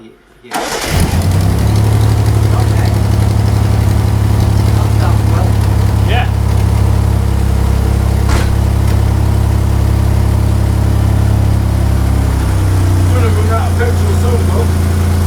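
An old engine with its throttle and choke stuck cranks and catches, then runs steadily at a loud, rough idle for the rest of the clip, with people talking over it.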